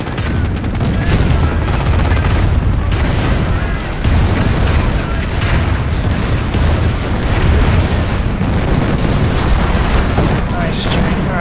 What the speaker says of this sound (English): Barraging here, barraging here?